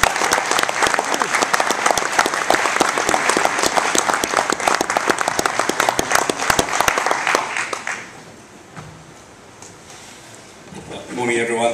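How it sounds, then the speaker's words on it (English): Audience applause welcoming the AirAsia head on stage at an aircraft delivery event, a loud dense ovation lasting about eight seconds before fading to room noise and a voice starting to speak. "offering a warm welcome and big round of applause for one of the stars of the low-cost market, Tony Fernandez."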